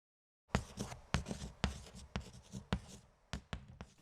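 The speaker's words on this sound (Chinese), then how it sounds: "我们则是用了书写的硬效果去还原它" A pen or pencil scratches across paper in a series of short, crisp, irregular strokes, close and dry, with brief pauses between them and no talking.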